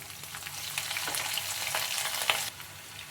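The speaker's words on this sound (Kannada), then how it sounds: "ನಾನು ಮೊದಲಿಗೆ ಹಸಿಮೆಣಸಿನ್ಕಾಯಿ ಹಾಕ್ತಾಯಿದ್ದೀನಿ, ಯಾಕೆಂದರೆ ಸ್ವಲ್ಪ ಖಾರ ಬಿಟ್ಕೊಳ್ಳಿ ಅಂತ ಮೊದಲಿಗೆ ಹಾಕ್ತಾಯಿದ್ದೀನಿ." Green chillies fry in hot oil in a pan, a close, steady sizzle with a few sharper crackles and stirring scrapes before the hiss drops off.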